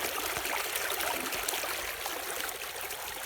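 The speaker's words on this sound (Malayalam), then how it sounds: "നമ്മൾ കൃഷി നടക്കുന്ന പാടത്തോട്ട് നല്ല വെള്ളം അടിച്ചു കയറ്റുന്ന ഒരു ചെറിയൊരു പൈപ്പാണ്" Water gushes from a small pipe, fed by a pump, into a paddy field, making a continuous close splashing and trickling rush with no voices.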